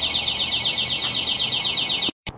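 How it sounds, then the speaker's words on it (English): A leak detection system alarm sounds a steady, piercing electronic tone continuously with a pulsing high pitch, then cuts off abruptly near the end before briefly resuming. "And there's the alarm."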